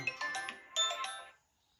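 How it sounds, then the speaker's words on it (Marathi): A mobile phone ringtone sounds as a short, fairly quiet electronic chime of two bright tonal bursts, then fades into silence. "बालूचा फोन आला"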